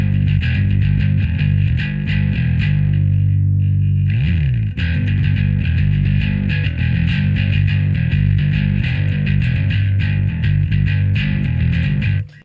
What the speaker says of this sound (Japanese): 激しく歪ませるとこれはこれでかっこいいですね